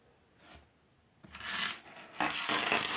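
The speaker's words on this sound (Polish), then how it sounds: "To są klucze." A bunch of house keys with a small multitool attached jingles and clinks up close, first a faint rattle and then a longer run of bright metallic jangling.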